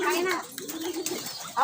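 Pigeons coo in short, close, warbling calls at feed guarded by a hen, with a voice talking over parts of it.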